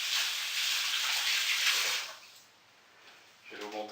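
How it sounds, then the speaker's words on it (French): Hands are rinsed under a running kitchen tap, a steady close gush of water for about two seconds before it cuts off, followed by quieter handling sounds. "Je rince les mains."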